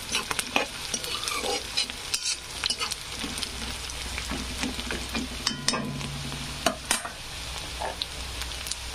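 Onions and curry leaves fry in a pan for kanda poha, crackling and sizzling steadily while a spoon scrapes and stirs in frequent sharp clatters, with no talking.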